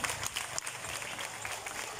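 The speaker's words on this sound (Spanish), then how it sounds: "Quiero que me le brinden un fuerte aplauso al hermano Pedro en esa tarde." Steady crowd applause fills a political party presentation event for the Gana party in Tierra Blanca, a dense, continuous patter of clapping held at a moderate level throughout.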